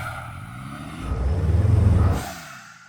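A Porsche struggling for traction while driving off-road on a slippery track: a close engine roar swells and churns for about a second, then fades away, with no talking.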